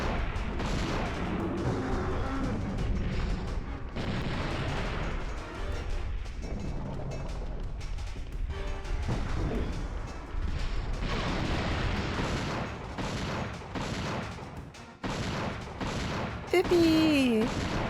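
Gunfire in Dino Crisis 2 as dinosaurs are shot, repeated loud blasts and rapid volleys running for most of the stretch over game noise, with a voice talking at points.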